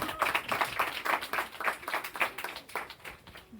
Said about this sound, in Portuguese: Aplauda, meu irmão!